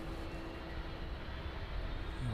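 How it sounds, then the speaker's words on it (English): Aircraft engines starting up at East Midlands Airport, a broad steady roar with a faint whine rising toward the end, heard from a distance with no voices. "both engines starting up now"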